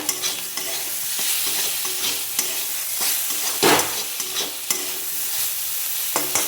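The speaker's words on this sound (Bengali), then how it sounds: "নিম বেগুন আমার ভাজা হয়ে গেল" Eggplant slices with neem leaves fry in hot oil, sizzling steadily while a spatula stirs and scrapes the pan in repeated strokes, close and without talk.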